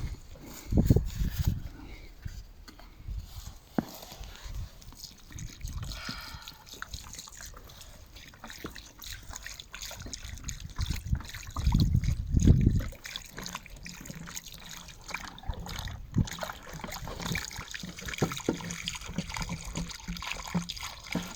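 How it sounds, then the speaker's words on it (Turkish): Water poured onto the soil around a newly planted olive sapling, a low trickling and splashing that swells around the middle and fades in and out over faint background noise, with no talk. "Şimdi can suyumuzu verelim."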